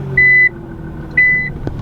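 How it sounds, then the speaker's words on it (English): Interior chime of a Nissan GT-R put into reverse: two clean electronic beeps, each about a third of a second, with an engine idling low underneath and a faint click after. "I'm gonna go ahead and put the car into reverse"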